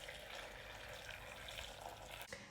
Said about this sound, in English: Boil your kettle and we're going to put some hot water in.